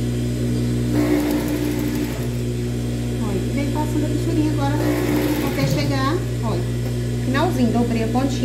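A sewing machine stitches bias binding along the edge of a child's puffed-sleeve blouse, a steady fast mechanical hum and whir running continuously while someone talks over it.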